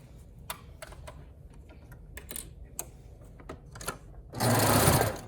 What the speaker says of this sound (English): We'll go over to the serger.